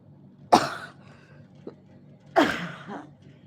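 Two distinct coughs, close and fairly loud, spaced about two seconds apart with a faint catch of breath in between.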